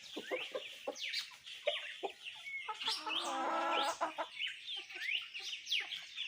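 Chickens on a rural farm in the Pernambuco backcountry at dawn, feeding time: close, busy clucking and squawking from several birds in quick overlapping bursts, with a louder drawn-out cackle in the middle.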